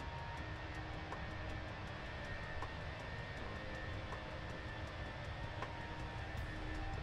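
Airbus airliner engines in Microsoft Flight Simulator, flying from Innsbruck to Bristol, make a steady, even roar that holds at one level throughout, with a faint high whine running over it.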